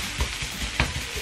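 Onions fry in a pan with a steady close sizzle, punctuated by a couple of brief stirring knocks, and no voices.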